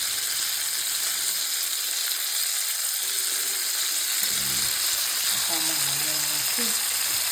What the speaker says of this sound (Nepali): मसला भुटिएर है मजाले भुट्छु